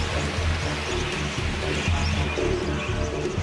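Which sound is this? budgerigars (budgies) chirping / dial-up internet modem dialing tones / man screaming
budgerigars (budgies) chirping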